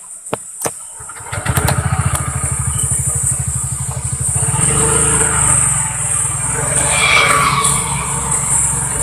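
A Honda Vario 160 scooter starts and pulls away on a test ride in light drizzle, its engine idling in a steady pulse, then revving up into a smooth rising drone with wind rush, heard close from the rider's position.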